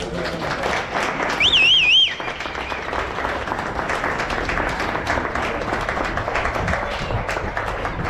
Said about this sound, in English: How about we clean this mess up with a nice round of applause for the world famous